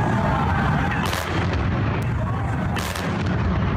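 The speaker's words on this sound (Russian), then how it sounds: "Серия звуков, похожих на взрыв." Heavy rumbling booms with a couple of sharp cracking blasts, distant explosions in central Kyiv rolling over a constant noisy background.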